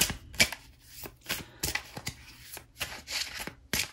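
Tarot cards shuffled by hand during a tarot reading, close and crisp, with irregular riffling and slapping bursts and short pauses between them, with no one talking.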